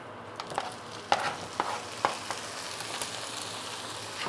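Tomatoes fry in a hot, oiled pan with a quiet, steady sizzle. Scattered soft clicks and crackles come as the pieces settle and get moved around.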